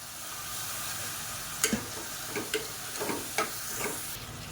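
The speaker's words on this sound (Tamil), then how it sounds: "இப்போ காய்கறி எல்லாமே நல்லா வதங்கிடுச்சு." Mixed vegetables (carrot, beans, peas, potato) sautéing in a pan, a low steady sizzle with a few soft clinks and stirring scrapes, fairly quiet, no talking.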